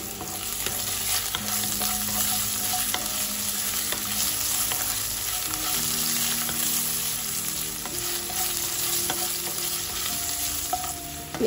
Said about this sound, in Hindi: प्याज आलू जब फ्राई हो गए